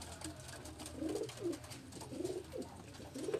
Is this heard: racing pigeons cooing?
yes